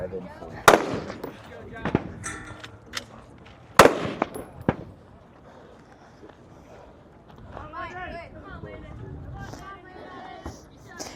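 Sharp gunshots from a shooting competition firing sequence, a few loud close reports spaced irregularly over the first seconds, followed by quieter rustling and faint talk in the background.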